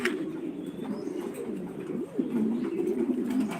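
Pigeons at a pigeon farm in Senbag, Noakhali, coo continuously in low, throaty rolling tones, several birds overlapping close by with a faint higher chirp.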